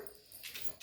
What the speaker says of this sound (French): Excusez-moi, c'est mon chien.